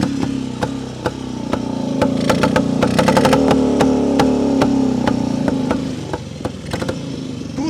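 A 1973 Yezdi Roadster motorcycle is kick-started and settles into a loud, close, steady running note, with sharp rhythmic ticks and clatter throughout and a slight rise in revs midway.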